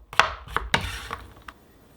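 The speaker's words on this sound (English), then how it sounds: "So we're gonna get all of our potatoes chopped up here" A sharp knife strikes a cutting board while chopping potatoes, a handful of crisp, close knocks in an irregular rhythm, each followed by a brief ringing tail.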